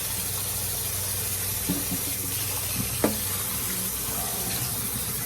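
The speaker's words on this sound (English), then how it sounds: "So I'm gonna use cold water to rinse it to stop the cooking process of the noodle." Cold tap water running over cooked noodles in a sink basket for a Cambodian noodle soup, a steady close hiss of flowing water with a few faint clinks and splashes.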